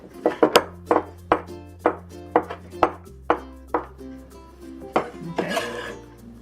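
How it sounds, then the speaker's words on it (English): A knife chops fresh wood ear mushrooms on a cutting board for a Sichuan-style egg omelet with minced pork and pickled mustard, a steady run of about a dozen close, sharp cuts ending in a scraping sweep. "Let's cut up the wood ears here."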